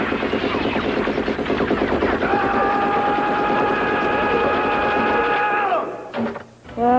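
A Rambo toy machine pistol set to its noise mode fires off a loud, rapid electronic rat-a-tat burst of fake gunfire with a droning tone, lasting several seconds before cutting off with a few clicks.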